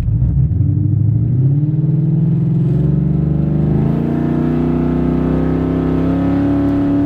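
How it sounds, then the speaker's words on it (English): A 2015 Mustang with a 6R80 transmission, 6F torque converter and long-tube headers is held on the trans brake, its engine revving slowly and steadily upward into a loud, close, rising drone. "So I'm gonna just slowly bring it up to see when it stops revving"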